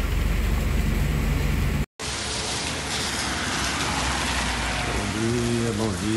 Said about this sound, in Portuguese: Desde cedo, chovendo muito, graças a Deus, de tempo fechado